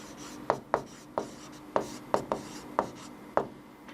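Pen writing on paper while working a Class 10 real-numbers maths exercise, with about eight sharp, close scratchy strokes in an irregular rhythm over quiet background, no talk.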